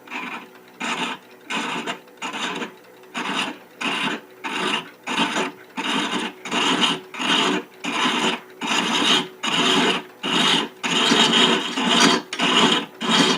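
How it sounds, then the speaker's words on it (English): A thread is chased on a wooden rook chess piece box spinning on a lathe, with a steady series of about twenty rhythmic rasping scrapes, each lasting under a second with short gaps between, loud and close. "I'm going to come in at an angle to strike that thread"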